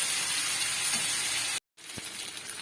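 Tomatoes sauté in a pan in a spicy, sweet-sour Bengali prawn curry with beans and eggplant, sizzling steadily and close, with a brief silent break and a soft utensil tap.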